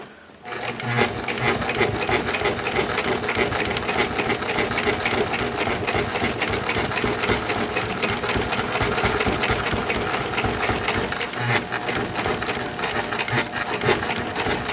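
A sewing machine stitching a UV sacrificial strip onto a genoa or jib sail with transparent thread, running loud and close in a steady, fast mechanical chatter for nearly the whole clip, with a brief slowdown near the end.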